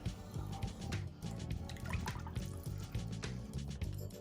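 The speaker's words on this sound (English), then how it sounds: "Add 8 cups of water and begin to stir to combine." Eight cups of water go into a pot of kitchari ingredients and get stirred, giving soft, close liquid sloshing and dripping with light scraping in an irregular rhythm, fairly quiet, with no talk.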